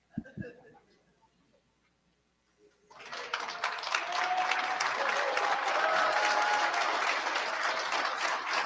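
After a few quiet seconds of faint knocks, a large audience breaks into sustained, steady applause that fills the room and keeps going.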